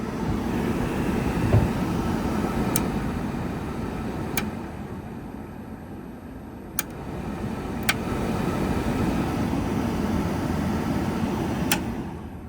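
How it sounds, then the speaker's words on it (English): A newly installed Peterbilt 359 truck cab blower fan motor runs with a steady whooshing hum, broken by a few faint, sharp clicks. "All right, blower motor is in."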